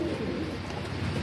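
Old-generation Madrasi Kalanka male pigeons coo in a continuous, close, low murmur that fills the short stretch without pause.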